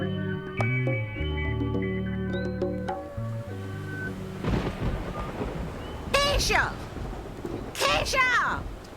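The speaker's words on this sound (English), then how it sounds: "You hear all that thundering and lightning?" Thunder sound effect in a hip hop song: after music, a deep rolling rumble of thunder and rain-like noise swells up, with voices speaking over it in bursts.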